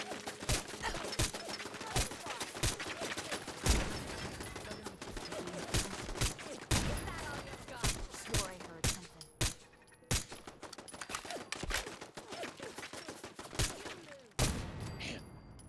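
Sustained gunfire in the Fallout 4 video game: dense, rapid shots crack out in irregular bursts over about fifteen seconds, loud and close, with occasional heavier blasts and brief pauses between volleys.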